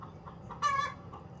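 A chicken gives one short, clear call in the middle of a quiet outdoor scene with soft background noise, with no voices.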